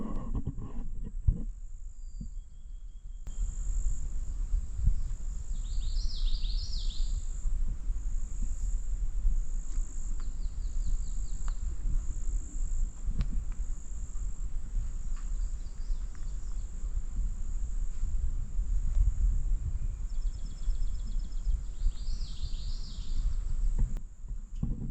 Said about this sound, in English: Hear the buzzing of some bees and dragonflies